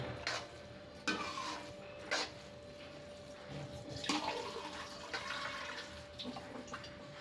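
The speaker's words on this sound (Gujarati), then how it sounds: "હવે આની અંદર હું થોડું પાણી અંદર એડ કરીશ" Water poured into a pan of cooking veg soya mince, a steady wet pouring hiss with a few louder splashes and stirring knocks, fairly close and without talk.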